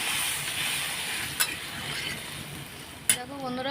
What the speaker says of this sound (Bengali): এখন আমি জল দিয়ে দেবো জল দিয়ে দিলাম